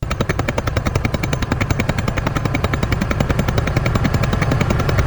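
A ticking clock, processed to mimic helicopter rotor blades, produces a loud, rapid, continuous chopping pulse with an even rhythm that holds for the full stretch.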